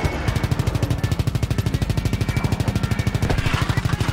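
Rapid, evenly spaced automatic gunfire from a World War II shooter set in the Battle of the Bulge, a steady loud stream of shots running throughout without pause.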